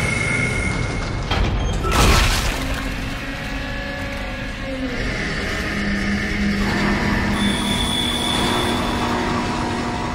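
A tram in the video game Dead Space rolls along its rails with a loud, continuous rumble, an early heavy clunk and thin metallic squeals rising and fading, with no talking.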